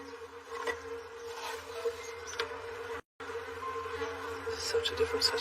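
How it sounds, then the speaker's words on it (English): Honeybees hum steadily around an active, healthy wooden frame hive in a garden, a continuous close drone with brief flickers of individual bees passing and one momentary dropout. "Although there are plenty of bees there, it's not that full"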